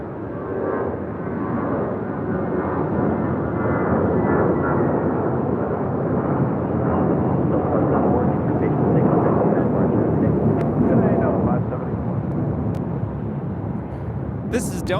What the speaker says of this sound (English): This is Delta Airlines 574 taking off to Austin on an A320